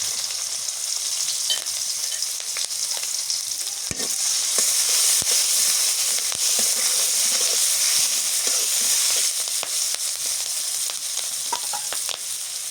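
Chopped onion and chillies frying in oil with five-spice seeds, a loud continuous bright sizzle with occasional clicks and stirs, close by and steady throughout.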